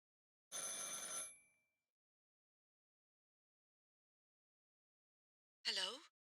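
A telephone rings in the horror game Martha Is Dead: one bright electronic ring burst, a long stretch of silence, then a short second ring, both clean and close.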